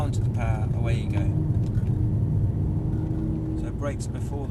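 Mercedes-Benz car accelerating on a driving-experience track, a loud steady engine drone heard from inside the cabin with rising revs, while an instructor talks over it.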